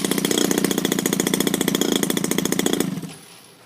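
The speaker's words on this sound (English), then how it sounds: "Kill the motor, and now we're going to go for a restart" A small RC petrol engine fitted with an autostart system runs with a rapid, even, buzzing beat, loud and close, then cuts off abruptly into near silence.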